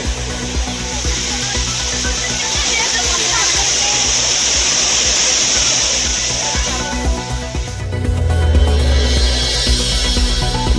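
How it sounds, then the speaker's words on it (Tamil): Floodwater roars down the Courtallam falls in a loud, dense, unbroken rush; near the end a voice speaks over the thundering water. "குற்றால அருவிகளில் ஆர்ப்பரித்து கொட்டும் வெள்ளம்."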